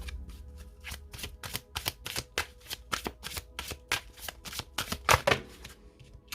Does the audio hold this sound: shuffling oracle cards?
yes